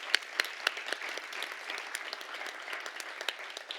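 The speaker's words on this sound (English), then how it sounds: "Let's give the Eagles a round of applause." Audience applause at a 2020 Grade 6 school celebratory ceremony, a steady wash of modest clapping with a few sharper individual claps near the start, fairly distant and without talk.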